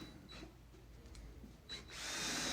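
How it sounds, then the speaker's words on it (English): A power drill drives screws to mount an electrical outlet during a bathroom remodel, a short motor whir rising into a steady, louder buzz at the end, close by. "so I can start putting my screws in and screw in the outlet"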